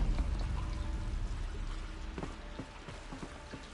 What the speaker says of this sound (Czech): Tak mi voda teče sem.